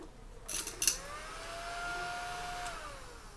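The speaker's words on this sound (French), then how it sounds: "Un aspirateur à table." A small tabletop vacuum cleaner clicks a few times and then runs with a steady, high motor whine that holds level and fades slightly near the end.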